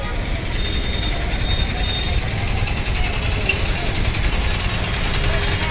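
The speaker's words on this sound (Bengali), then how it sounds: "এই যে হচ্ছে অলঙ্কার বাস টার্মিনাল চট্টগ্রাম" Traffic rumbles at Alankar bus terminal in Chittagong, a steady low roar of buses and engines with a faint horn-like tone and people talking beneath.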